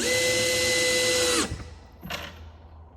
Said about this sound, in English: Screwing everything in place in the pre-marked positions.